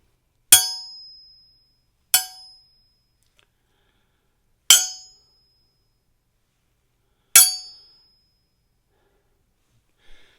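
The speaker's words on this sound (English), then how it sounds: "let's start off with the sound of sword fights and clinging and chinging" Four sharp metallic clangs of foley sword strikes, spaced a couple of seconds apart, each ringing out briefly before fading, with silence between strikes.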